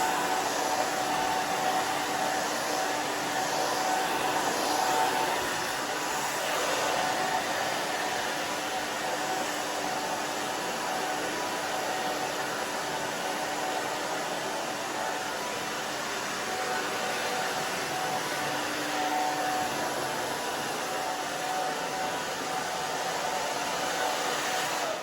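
A hair dryer blows steadily while a brush works back and forth through a growing-out pixie cut, a close, constant airy whoosh running the whole time with slight shifts in tone.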